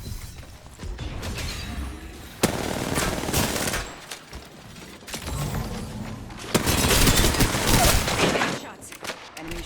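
Rapid gunfire in the battle royale game Apex Legends, loud bursts of automatic fire with impacts and mechanical clatter that come in waves, and a voice talks now and then over the shooting.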